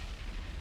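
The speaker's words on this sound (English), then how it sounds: "Magazine explosion." A ship's magazine detonates in the naval combat game War on the Sea, a short, dull, muffled boom heard alone at low level.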